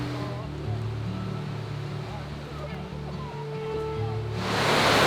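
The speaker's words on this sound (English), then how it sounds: "this is like a legit waterfall" A small waterfall just off a campsite on a Georgia overland trail, a constant rushing roar of water under a low engine-like hum, with people talking over it and the water rising louder at the end.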